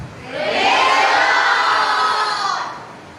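A church congregation at a Christmas service shouts amen and hallelujah together. The shout is one loud, sustained crowd roar of mixed voices that swells, holds for about two seconds, and then fades.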